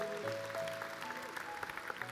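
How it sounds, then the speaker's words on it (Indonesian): Applause from a church congregation during a sermon, a brief wash of clapping over a steady sustained tone, with a few sharper claps standing out near the end. "Kasih tepuk tangan tuh Tuhan."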